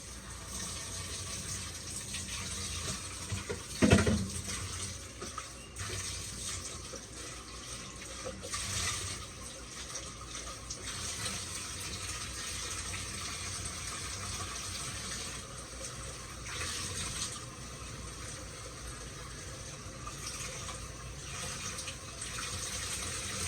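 Water pours into a cooking pot while oxtail and okra stew is prepared, a steady faint running wash throughout with a brief louder splash near the start, no voices.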